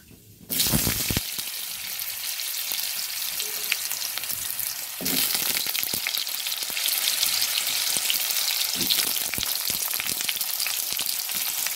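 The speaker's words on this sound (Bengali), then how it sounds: "পাঁচফোড়নটা কিছুটা ভাজা হয়ে আসলে এবার দিয়ে দিচ্ছি আলুগুলো।" Potato pieces hit hot oil seasoned with panch phoron in a pan, bursting into loud, dense sizzling that swells again midway and keeps crackling steadily with scattered pops and stirring scrapes.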